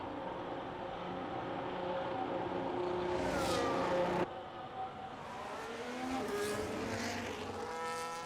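An F1 race car in the F1 25 video game roars through a lap of the Canada circuit, its engine pitch climbing and shifting through gears, with a sharp cut midway and tire noise as it passes close and loud.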